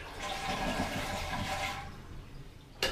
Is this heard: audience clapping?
no